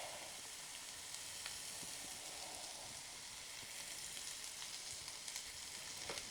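Grease sizzles and crackles steadily in a frying pan for Southern-style fried cabbage, a constant hiss with faint pops throughout and no talking.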